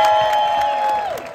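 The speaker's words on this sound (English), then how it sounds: "How about one quick clap and cheer just to see what you got?" A street show crowd in San Francisco gives a short burst of clapping and cheering, with a loud tonal whoop or whistle held across the moment before it bends downward and drops away.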